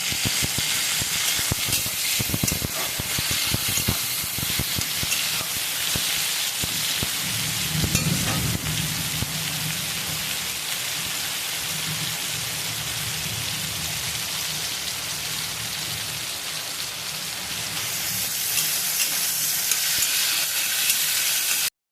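Chopped tomatoes fry in a hot pan for a rui fish head curry, giving a steady, close, rain-like sizzle that swells briefly with a burst of crackle partway through and holds strong to the end, with no voices.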